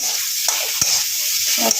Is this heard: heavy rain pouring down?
no